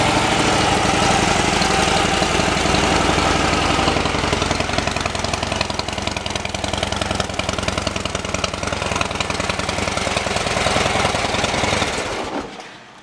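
Close, loud idle of a 2015 Harley-Davidson Dyna Fat Bob through a Screaming Eagle exhaust, a steady lumpy rumble with rapid pulsing beats that continues unbroken before cutting off near the end.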